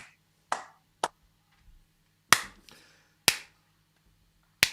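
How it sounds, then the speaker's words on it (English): A handful of slow, sharp, separate hand claps, five or six spaced unevenly apart, sounding close and dry against a quiet room at the Threshold 2020 Awards, with no crowd joining in. "Do you think this clapping is patronising"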